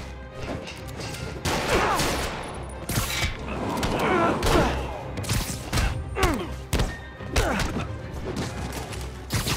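Henchmen firing guns at Spider-Man in Marvel's Spider-Man video game: rapid, loud bursts of gunfire and heavy impacts crowd together, mixed with whooshes, thuds and brief shouted voices.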